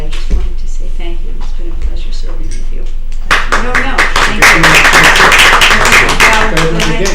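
A room at a selectmen meeting breaks into applause, many hands clapping together loudly and steadily after a stretch of quieter talk, with voices continuing underneath.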